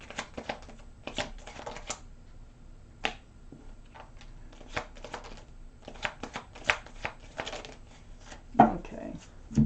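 A deck of tarot cards being shuffled makes quick, crisp bursts of riffling and slapping, coming in irregular clusters with short pauses between them.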